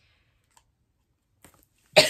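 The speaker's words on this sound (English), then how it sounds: "I still have the cough." After a near-silent stretch with a few tiny clicks, one sharp, close cough breaks out at the very end.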